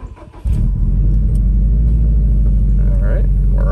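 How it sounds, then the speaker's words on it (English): A 2018 Subaru WRX STI engine cranks and catches after a brief quiet moment, then settles into a loud, steady low idle rumble heard up close for the rest of the clip. "let's go ahead and start it up."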